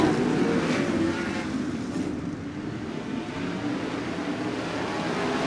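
Sprint cars at Ventura Raceway accelerate back to racing speed after a red flag, a broad roaring engine wash carried by wind noise and heard from some distance.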